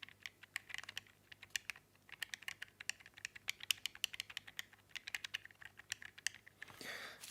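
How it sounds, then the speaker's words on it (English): D-pad on a black-shelled Game Boy Color pressed repeatedly, producing dense, irregular bursts of small, close plastic clicks with brief pauses, ending in a short rustling handling noise. "so yeah, the D-pad on the black one sounds like this."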